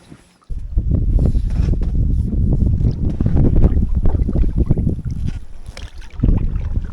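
A canoe is paddled on a lake south of Kamloops, with continuous water swishing and splashing from the strokes mixed with loud wind buffeting the microphone after a quiet start.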